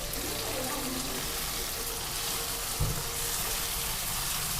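Onions fried golden, then tomato added, sizzling in a pan while cooking Rayalaseema-style uggani; a steady, fairly faint hiss runs throughout with one small knock near the end.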